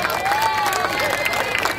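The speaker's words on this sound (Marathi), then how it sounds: "जोरदार टाळ्या झाला पाहिजे एकदम." A crowd claps and cheers loudly and steadily at an outdoor Ambedkar Jayanti celebration in Worli, with a whistle-like tone rising briefly above the dense noise of the gathering.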